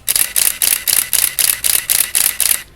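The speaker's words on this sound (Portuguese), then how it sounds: "Vou colocar até o modo contínuo, ela faz 4 quadros por segundo, olha só." A Canon EOS Elan 7E film camera fires in continuous mode at about four frames per second, making eight or nine sharp, evenly spaced shutter-and-advance bursts close to the microphone, with no speech.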